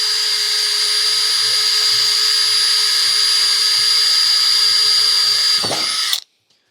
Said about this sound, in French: on va voir ce que ça donne avec un deuxième perçage